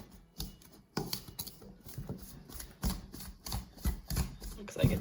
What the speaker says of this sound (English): The pastry knife really works that cold butter in well and mixes it up well